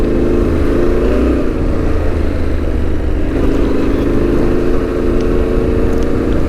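Yamaha Tenere 700 motorcycle engine revving up close, a loud steady rumbling drone with slight rises in pitch, heard alone without talk.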